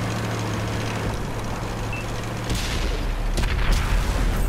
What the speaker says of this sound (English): that's going to be the last shot I fire in this game